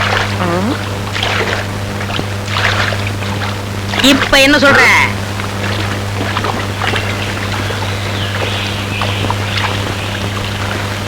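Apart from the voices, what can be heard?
boat moving on water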